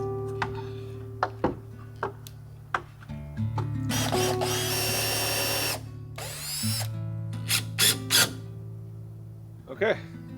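A power drill drives fasteners into outhouse rafters during an off-grid build in Alaska: two long whirring runs, then several short bursts and a final quick spin, over a quiet background.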